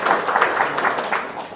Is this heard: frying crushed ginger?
no